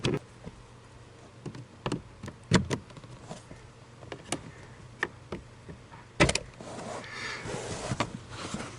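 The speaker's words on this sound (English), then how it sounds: "Start by undoing these fasteners here" Plastic trim fasteners come loose by hand in a 2013 Toyota Prius under the dash, giving a series of sharp, close clicks and snaps spaced irregularly, with a louder double snap partway through and faint rustling between.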